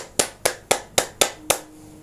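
Six sharp hand claps in an even, steady rhythm, close and fairly crisp, followed by quiet.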